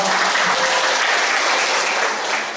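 An audience at a church women's fellowship meeting applauds, with loud, dense, steady clapping filling a large room for a few seconds.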